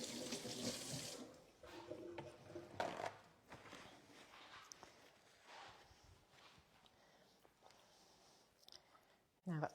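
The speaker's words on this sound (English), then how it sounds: "Just need to wash my hands quickly." Tap water runs into a sink as hands are washed, splashing close by at first and then fading to quieter trickles and kitchen clatter, ending with a short burst of noise.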